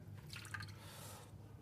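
Water poured out of an aluminum Gaggia espresso machine boiler, a faint short trickle and splash lasting about a second.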